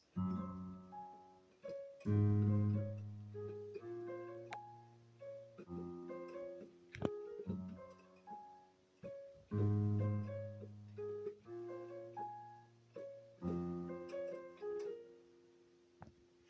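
A piano plays the intro of a song, a bass line under chords and melody, moving in repeating phrases at a moderate tempo, with no voices.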